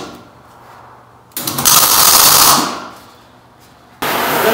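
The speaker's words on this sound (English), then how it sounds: "I'm just going to do a tack weld right now because I want to get it nice and plumb with the chassis" Tack welding joins pressure vessel steel to a homemade submarine chassis: a loud, crackling, hissing arc burst of about a second that fades out, then a second burst begins near the end.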